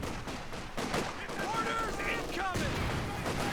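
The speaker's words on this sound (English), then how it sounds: "Very early mortar here though from Dirt. In fact, he's gone for double mortars." Mortar shells fire and explode in a Company of Heroes 2 4v4 match, with several dull booms and bursts of gunfire spread through a dense battle din. A commentator talks over the action.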